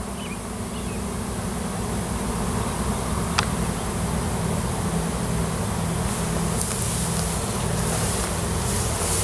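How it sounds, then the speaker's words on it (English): Steady, dense buzzing of a swarm of wild honey bees fills the space close by, a continuous droning hum with no talking. "there's a whole bunch of bees"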